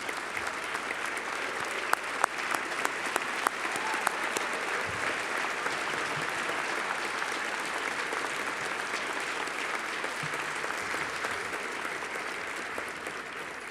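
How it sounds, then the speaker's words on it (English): A large luncheon audience gives a sustained round of applause, dense and steady for the whole stretch, with a few sharper individual claps standing out early and no talking over it. "please stand so we can give you a round of applause"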